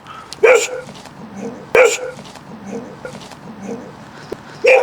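Three sharp, loud barks from a caged dog, spaced a second or more apart, with quieter murmuring voices and background noise filling the gaps between them.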